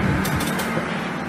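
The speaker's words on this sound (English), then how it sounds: "And now the printer working again." An Epson L120 inkjet printer runs again after a paper-jam fix, its mechanism whirring with gear and ratchet clicks in a continuous close, loud churn.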